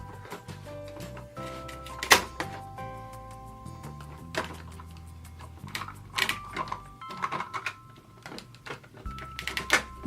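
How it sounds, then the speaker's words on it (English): Plastic Hello Kitty toy birthday cake playset being sliced: sharp clicks, taps and snaps of plastic pieces, irregular and close, over faint tonal background sounds. "Okay, let's cut the cake."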